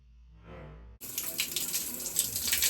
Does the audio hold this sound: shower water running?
yes